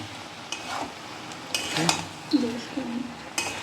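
Bengali prawn kalia being stirred in a pan, with soft scraping strokes and a gentle sizzle of gravy, plus a few louder clinks of the spoon against the metal, close up and with no talk.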